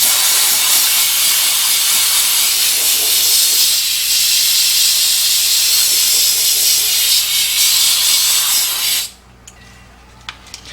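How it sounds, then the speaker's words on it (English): Steady broadband hiss of an air compressor blowing a low stream of air while painting gauge needles for a 1986 Mustang GT cluster, continuous and close for about nine seconds before cutting off to near quiet. "Got my air compressor turned on real low here, and just a little bit of air."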